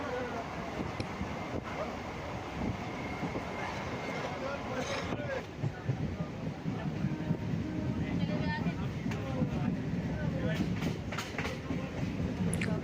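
A train rolls into Kuntighat station near the Kunti river in Hooghly, a steady rumbling, rattling carriage noise that fills the whole stretch, close and continuous, with faint clicks from the track.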